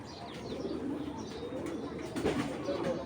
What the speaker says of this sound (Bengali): এটা ফুল ব্ল্যাক চেকার একটা সিলভার আইসের কবুতর